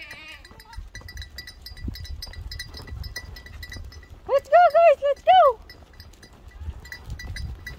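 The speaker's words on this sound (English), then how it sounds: "Watch the goats." A herd of goats with bells runs past. Several close, loud bleats burst out in a quick cluster over steady tinkling and clinking of bells, while someone talks briefly.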